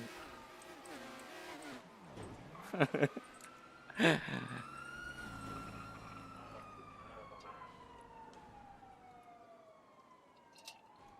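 A police car siren in a city driving video game wails with long rising and falling sweeps, fairly faint and steady, broken by a couple of short sharp impacts early on.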